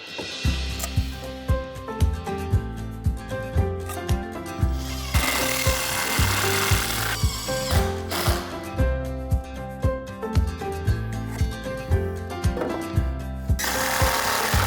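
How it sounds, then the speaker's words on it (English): A power drill drives screws through wooden legs into a garden bench frame, whirring and grinding in a rhythmic run of pulses with louder sustained bursts, close and without talk. "Move the complete frame assembly onto the floor and finish screwing the legs to the frame."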